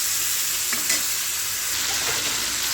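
Coriander and chili powder sautéing in a hot pan, a loud continuous sizzle with a few scraping stir strokes, close up and without talk.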